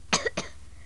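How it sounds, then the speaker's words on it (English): Two short, sharp coughs in quick succession, close by, with a brief pause between them and quiet afterward. "I'm a little bit sick, that's why you hear me like coughing and stuff."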